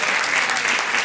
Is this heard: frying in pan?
no